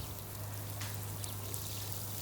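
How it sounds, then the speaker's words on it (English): Light spray of water falling onto freshly seeded garden soil, a soft steady hiss with faint patter, close and quiet against a low background hum. "So I'm just going to put a light spray on there."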